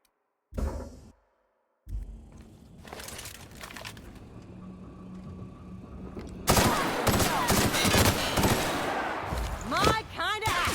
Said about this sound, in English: We have a lot of shooting to do